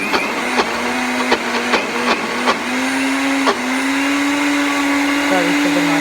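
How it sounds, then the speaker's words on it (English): A blender mixes a keto brownie mixture with almond milk, a loud, steady motorised whir that dips and recovers as the blades catch, running continuously throughout. "Sorry for the noise of the blender."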